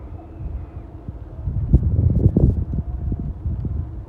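Gusty wind buffets a phone microphone while someone rides a 1991 GT BMX bike, a close, low rumbling roar that swells and pulses, growing heavier in the second half.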